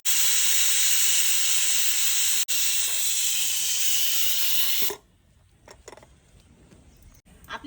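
A pressure cooker releases steam in a loud, steady hiss lasting about five seconds and then cuts off abruptly, leaving faint clicks and low background noise.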